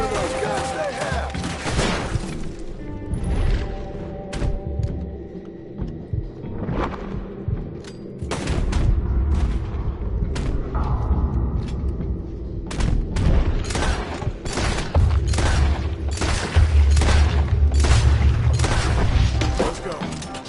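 Gunfire in Red Dead Redemption 2, with repeated sharp shots and bursts, some close and loud, others more distant, mixed with thuds and booms over a rumbling background during a chaotic fight.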